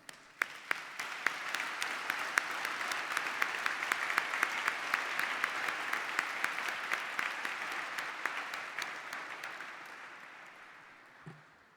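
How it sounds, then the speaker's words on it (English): Sustained audience applause for volunteers at the 2015 NMSF Ocean Awards Gala, an even wash of many clapping hands at moderate distance that holds steady for about ten seconds before tapering off. "So I'd like to give a round of applause to the volunteers across the country"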